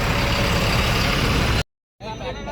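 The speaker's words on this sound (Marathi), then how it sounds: "आपली गाडी आली आहे." A goods vehicle loaded with cotton rumbles at a market, its engine running close and steady before an abrupt cut, then a low rumble resumes with a voice over it.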